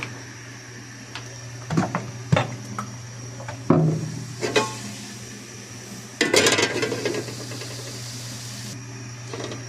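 A wok (kadai) set onto a stove for cooking gives several close metallic clanks and knocks, followed by a rattling burst of pan noise over a steady low hum.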